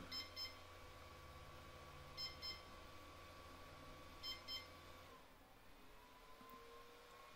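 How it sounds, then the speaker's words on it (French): A Tronxy 3D printer gives short double beeps at intervals over a steady mechanical hum during firmware switching, then the hum shifts and quiets. "Et là, ça bip beaucoup plus."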